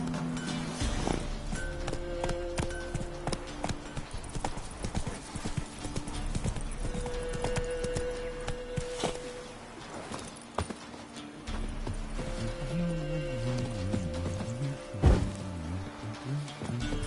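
In the video game Witcher 3, the horse Roach's hooves clip-clop in a steady walking rhythm. Whinnies and snorts break in now and then, with game music and ambient sounds running underneath.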